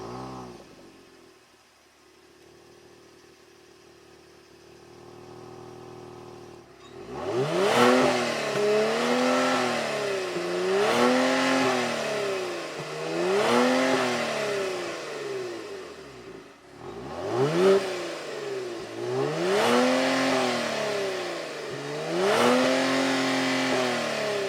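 Exhaust of a 2019 Kia Stinger GT RWD revved repeatedly while stationary: after a quiet idle, several rising-and-falling blips in two clusters, loud and close, with no talking.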